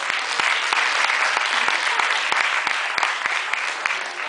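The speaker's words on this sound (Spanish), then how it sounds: "Fuerte aplauso para él" A strong round of applause from the audience at a Pecha Kucha Night presentation event, a loud, dense and continuous roar of clapping with crisp individual claps cutting through, holding steady throughout.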